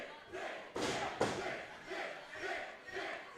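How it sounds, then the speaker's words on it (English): Wrestling crowd at a live independent show chanting at a wrestler, a loud massed roar of voices rising and falling in rhythmic waves with a sharp thud partway through. "this crowd calling Richard a Richard"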